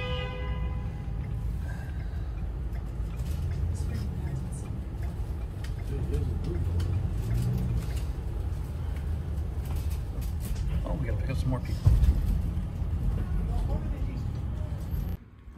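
A shuttle bus leaving Toronto Airport drives along with a steady low engine rumble and road noise, heard from inside the cabin, a brief louder bump near the end.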